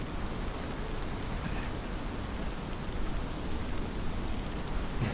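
Steady rain from a typhoon nearing Taiwan falls as an even, dense hiss of drops on surfaces, constant and moderately loud with no talk over it.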